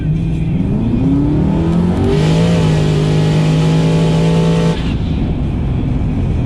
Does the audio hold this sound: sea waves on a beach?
no